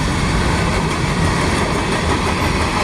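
A long freight train rolls steadily past on track 2 at close range, a loud continuous rumble of wheels and cars with faint clickety-clack throughout.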